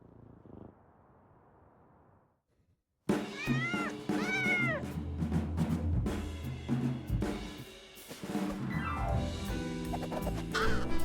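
A cartoon kitten in the video game Little Kitty Big City meows several times in high rising calls after a soft, quiet opening, with a busy musical backdrop throughout.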